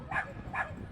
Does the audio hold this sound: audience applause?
no